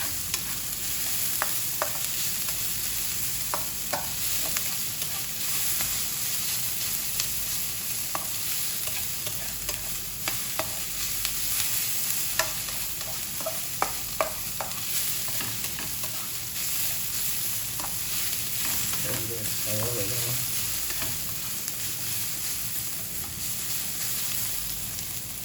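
Green chilies sizzle in a pan while dinuguan is cooked, giving a continuous frying hiss with scattered scraping and stirring clatter, and a brief low rumble near the end.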